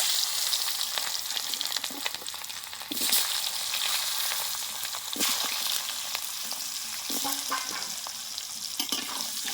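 Steamed new potatoes fry in oil with whole cumin in a pan, giving a steady bright sizzle throughout with a few louder stirring scrapes, close and continuous with no talk.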